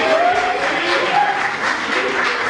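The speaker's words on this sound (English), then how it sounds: "you guys deserve some applause too" Applause from the audience at a county freeholder meeting, a dense and steady wash of clapping that holds at an even level for a few seconds.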